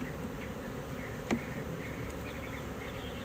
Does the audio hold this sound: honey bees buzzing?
yes